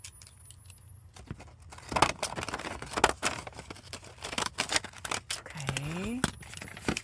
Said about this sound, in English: I'm going to use my fancy scissors.